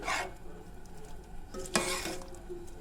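Chickpeas being stirred with ginger-garlic paste, spices and food colouring for Kathiawari-style cholay, a steady soft scraping with a brief louder scrape and clatter near the middle, faint sizzling beneath, no voices.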